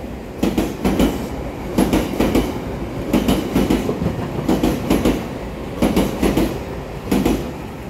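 A TEMU1000 Taroko Express tilting train, sets 1009 and 1010, rolls past at close range with a steady rumble and repeated clickety-clack bursts as the wheels cross rail joints, with no voices.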